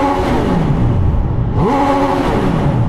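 A Triumph Tiger 800 motorcycle engine revs hard and close, its pitch sweeping up and down through two loud throttle blips with a brief dip between them.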